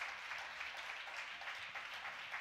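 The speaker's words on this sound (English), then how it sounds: "Can y'all clap for them?" A church congregation applauding, a soft, continuous patter of many hands from across the room, steady throughout and fairly distant, with no speech over it.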